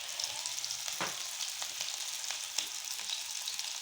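Vegetable potato seekh kebabs fry in a little ghee, giving a steady close sizzle with faint crackles and a few soft pops throughout.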